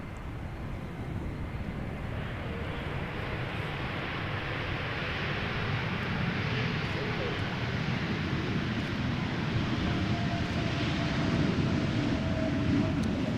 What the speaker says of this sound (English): Vueling, We Love Places. A320 Neo. Arriving from Barcelona.